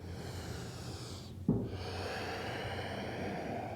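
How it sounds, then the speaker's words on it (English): A single sharp nasal inhale midway through a yoga flow, short and close, against a low steady background hiss. "Taking an expansive breath here."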